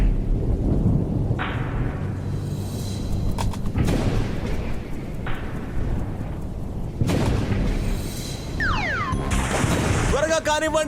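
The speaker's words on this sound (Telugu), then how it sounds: "త్వరగా కానివ్వండి, వర్షం వచ్చేలా ఉంది." A cartoon thunderstorm with heavy rumbling thunder claps over steady falling rain, loud and repeated, with brief voices and sound effects near the end.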